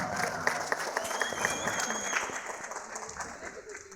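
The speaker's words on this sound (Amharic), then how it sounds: "አንዴ ሁላችሁ ጭብጨባ ለናቲ ወንድም" Applause from an audience at an academy graduation ceremony, a steady wash of many hands clapping, moderately loud and continuous, with voices mixed in underneath.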